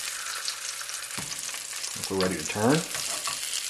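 Sesame-crusted ahi tuna sears in oil in a wok, a steady close sizzle running throughout while a voice talks briefly over the frying.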